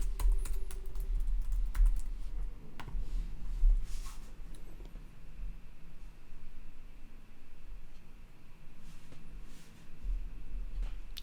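Someone is typing a password on a computer keyboard, producing a steady run of quiet, close key clicks with a few louder taps over faint room hum.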